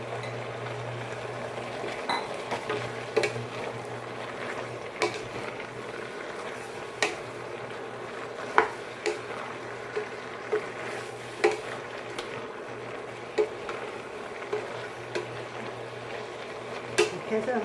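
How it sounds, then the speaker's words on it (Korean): Radish is stir-fried in a pot for pork kimchi stew, with light clinks and scrapes of stirring over a steady simmering hiss. "무를 넣고 다시 또 볶아주세요."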